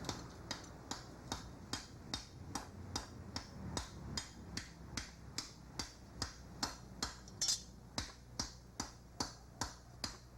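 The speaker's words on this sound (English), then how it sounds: "then I start pounding it with a hammer or shaping it." Steady hammer blows on heated metal being shaped at a forge, some two dozen sharp ringing strikes at an even, brisk rhythm, close and distinct with no talk.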